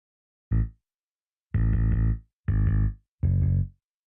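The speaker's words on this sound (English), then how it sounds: "I have the decapitator, which is giving some nice saturation and distortion" Bass line processed through Decapitator saturation and distortion in a mix, heard as four gritty, saturated bass phrases separated by short gaps, the first a brief stab and the rest sustained, loud and alone.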